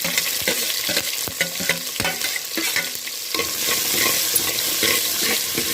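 Onions fry with a steady sizzle in a clay pot while a spoon scrapes and stirs rhythmically against it, close and fairly loud.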